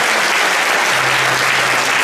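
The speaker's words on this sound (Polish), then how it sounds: "duże brawo, zasłużone brawo." Sustained audience applause fills a conference hall at a regional parenthood day event in Olsztyn, dense steady clapping from many hands at a constant loud level, with no talking over it.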